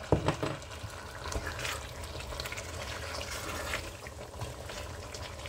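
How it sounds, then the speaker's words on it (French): Hot water is poured into a pot of oxtail stew with white cabbage, giving a steady rushing, bubbling pour close by that runs throughout without pause. "Maintenant, je vais mettre un peu d'eau, de l'eau chaude dans l'eau bien chauffée."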